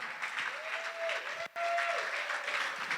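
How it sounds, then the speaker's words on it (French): A church congregation claps steadily in a dense, sustained round of applause, with a brief pause near the middle and a faint steady tone underneath. "Est-ce que nous pouvons applaudir Jésus-Christ ce matin?"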